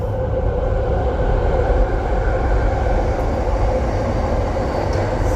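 A passenger train runs along the Metronet Thornlie-Cockburn line near Carlisle and Beckenham, giving a loud, steady rumble of wheels and wagons that holds evenly for the whole stretch, with no voices.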